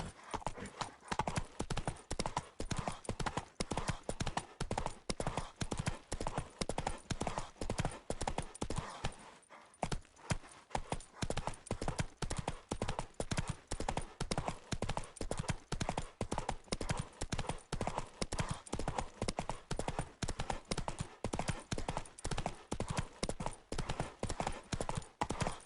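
Roach the horse gallops in The Witcher 3, a loud, steady, rapid clip-clop of hooves that runs nearly unbroken apart from one brief stumble midway.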